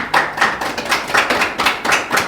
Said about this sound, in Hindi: ताली तो बनती है इनों के लिए।